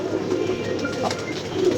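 Pigeons kept by a fancier coo softly at close range, a low murmuring warble that runs steadily through the short stretch with no voices over it.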